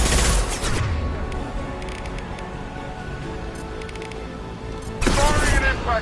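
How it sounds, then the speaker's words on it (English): Impact shot power fired in the Mass Effect 2 video game, a loud burst of crackling gunfire and booms at the start and again near the end, with steady combat noise and game sound effects in between. "Firing an impact shot."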